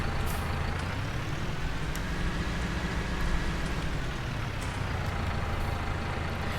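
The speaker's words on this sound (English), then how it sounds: "And that brings us to the New Holland tractor anyway." Farming Simulator 19 New Holland quad-track tractor engine, a steady low diesel drone with a continuous rumble and faint high hiss, holding even in level throughout with no talking.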